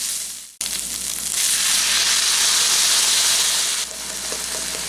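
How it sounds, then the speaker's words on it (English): Crushed tomatoes hit a hot pan already holding tomato paste for a spaghetti lasagna sauce, with a sudden loud burst of hissing sizzle that stays strong and steady before easing slightly. "go ahead and add your crushed tomatoes"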